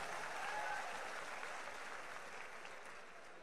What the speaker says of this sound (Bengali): আপনাদের সবাইকে আমি একটা করতালি দিতে চাই, আপনারা যদি আমাকে জয়েন করতে চান